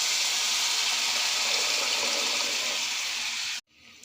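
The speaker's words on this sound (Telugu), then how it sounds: "చింతపండు పులుసు పోసుకోవాలి." Tamarind juice pours steadily into a cooking pan in a continuous, close, fairly loud rush of liquid that stops abruptly near the end.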